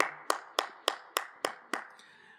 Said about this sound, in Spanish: Le damos un fuerte aplauso, hermanos, a nuestro Dios